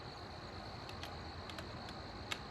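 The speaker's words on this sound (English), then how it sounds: "Crickets are getting just a little bit louder." Faint, steady insect chirping in a quiet outdoor setting, with soft repeated high-pitched pulses over a low background hiss.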